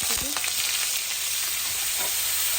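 Butter melting and sizzling in a pan alongside crushed garlic and grated ginger for pav bhaji, a steady close frying hiss throughout with a few brief stirring scrapes near the start.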